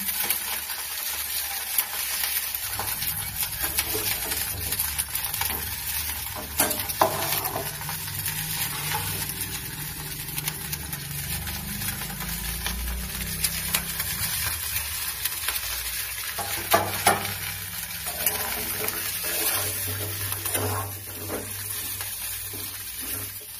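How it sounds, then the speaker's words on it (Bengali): Cauliflower florets frying in a little oil sizzle steadily and loudly, broken by occasional stirring scrapes across the pan. "প্রথমে ফুলকপি গুলো ভেজে নেবে।"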